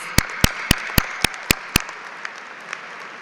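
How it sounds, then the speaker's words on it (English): Audience applause at a Northeastern University graduation ceremony: seven sharp, evenly spaced claps ring out loudly over a soft crowd wash, then thin to a few faint scattered claps. "A round of applause, please."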